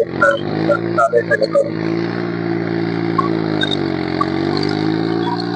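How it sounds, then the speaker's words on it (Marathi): A steady, rumbling tractor engine idles continuously with a low droning hum, joined briefly near the start by a few clattering knocks. "आता ट्रॅक्टरने इकडं गावा करताय मस्त ट्रॅक्टर चालू मस्त"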